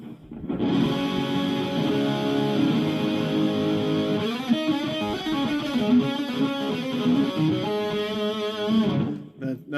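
A distorted electric guitar, a Kramer Focus VT 211S, plays sustained, buzzing chords and notes, loud and saturated, with a brief pause near the end.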